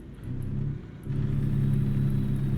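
A truck engine in American Truck Simulator drones with a low, steady rumble that dips briefly, then swells louder as it accelerates and holds a strong, continuous hum.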